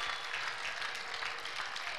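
A church congregation claps together at a miracle service, a dense, even wash of applause that holds steady throughout, fairly distant and without speech.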